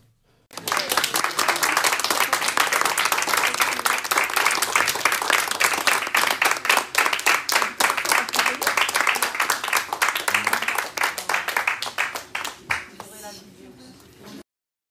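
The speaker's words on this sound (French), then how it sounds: "elles sortent de l'audience, et puis ça, voilà, on les applaudit" Crowd applause greets doctors as they walk out of a professional disciplinary hearing held by their medical order. Sustained, dense clapping lasts nearly the whole stretch, fairly close, with voices mixed in, and it thins out at the end.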